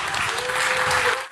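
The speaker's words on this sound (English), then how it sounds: "Give him a big Sandown, New Hampshire round of applause" A large crowd at a Donald Trump rally in Sandown, New Hampshire breaks into loud, sustained applause and cheering, with a steady tone ringing beneath it before it cuts off abruptly at the end.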